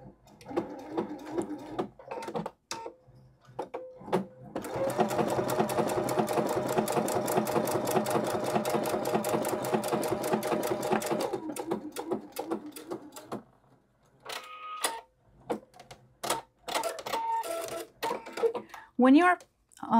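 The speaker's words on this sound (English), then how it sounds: "When you are sewing these pieces together, you want to make sure that you're not actually over sewing and going into your folded piece" A sewing machine stitches English paper pieced quilt pieces in one long, fast, even run, bracketed by short bursts and clicks of the presser foot, with a voice speaking before and after.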